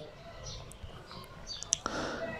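Sharp mouse clicks select options while editing colour settings for a poetry photo video, several quick clicks near the end under steady room noise.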